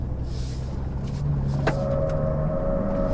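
A 2021 Ford F-150 Raptor with big tires drives around corners at a racetrack, its engine a steady low drone with a tone that rises and shifts midway, alone without talk.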